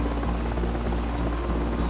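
A cartoon helicopter circles over the Egyptian desert pyramids, its rotor chopping in a fast steady pulse under a continuous buzzing drone, close and constant throughout, with no voices present.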